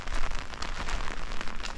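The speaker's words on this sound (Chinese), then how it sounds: "结果竟然下起了大雨" Heavy rain pours steadily in a mountain valley community in Taiwan, a dense, continuous hiss of drops drumming on surfaces close by, with no voices.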